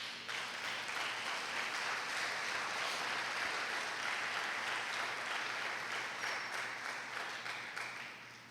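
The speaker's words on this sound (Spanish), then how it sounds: "Yo le brindaría un aplauso a Dios." A church congregation breaks into steady applause, a continuous wash of clapping from many people heard at a distance, holding level and then tapering off at the end.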